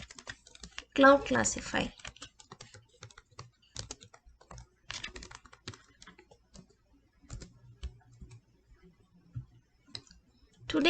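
Computer keyboard typing comes in short clicking bursts, loudest near the start and again around the middle, with a voice talking over parts of it.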